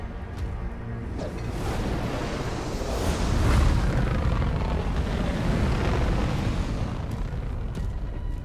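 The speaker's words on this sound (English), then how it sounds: "He picks up a torch and uses it to light a ring of fire." A torch lights a ring of fire in the video game Doom: The Dark Ages, producing a sustained roaring whoosh of flames that swells into a louder rumbling burst midway and then keeps burning steadily.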